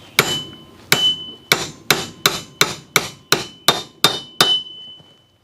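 Nine sharp metallic hammer taps, evenly spaced, drive a bearing race into a quad racer front hub, each strike close and loud with a brief ringing tail and no talking.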